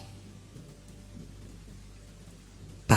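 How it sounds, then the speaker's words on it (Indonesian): Heavy late-night rain beside a riverbank settlement, a steady dense roar of downpour with low rumbling thunder underneath, ending in a sudden loud close burst. "Kayaknya gak ada tanda-tanda mau berhenti juga nih hujan."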